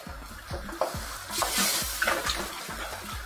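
Cheese and cream sauce is stirred in a pan with a metal utensil, its regular scraping strokes rising over a soft sizzle, close and clear, with a few louder splashy stirs midway.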